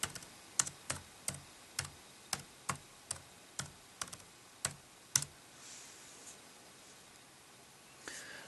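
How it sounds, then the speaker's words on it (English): Keys clack on an Acer touchscreen Chromebook C720P keyboard: about a dozen sharp, close taps in an uneven rhythm, then a quiet pause before one more soft click. "But if you do want to type, you're going to have to use your keyboard."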